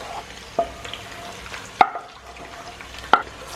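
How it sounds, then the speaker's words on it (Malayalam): Cream loosened with a little milk being stirred into a dish, soft scraping strokes with a few sharp spoon clicks against the pan, quiet and close, no talking. "നന്നായിട്ട് ഇളക്കി യോജിപ്പിക്കാം."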